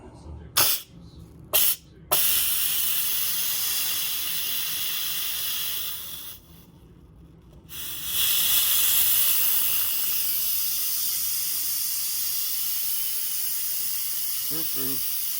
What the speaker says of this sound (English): Now I'm gonna do a quick release on the steam.